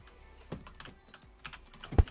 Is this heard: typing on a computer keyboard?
yes